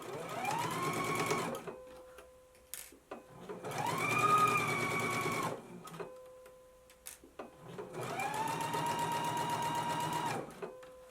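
A sewing machine stitches the front band seam of a McCall's 7330 jumpsuit, running in three long, steady bursts with short pauses between them, close and fairly loud with no talking.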